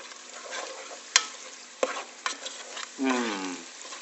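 Magiritsa stirred in a pot with oil and salt, a soft scraping stir under a low background hiss, with a few sharp utensil knocks and a louder stirring swirl near the end.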